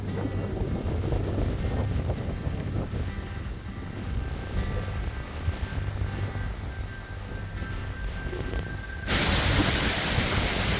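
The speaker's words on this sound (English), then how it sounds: "Real windy today, real windy." Strong wind buffets and roars continuously along an exposed ridge-edge trail during a long thru-hike day on the Appalachian Trail in Shenandoah, loud and close, swelling harder near the end, with no voices.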